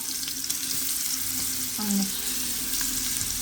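Fish fries in a pan in a home kitchen, a steady close hiss and crackle of hot oil with a brief clatter midway, moderately loud, with no talking.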